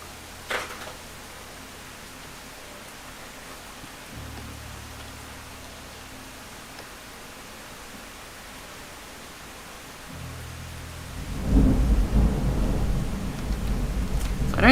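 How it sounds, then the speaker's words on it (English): A thunderstorm, with low thunder rumbles under steady rain that swells louder and heavier near the end, with brief talk early on. "Yeah, it is a proper thunderstorm."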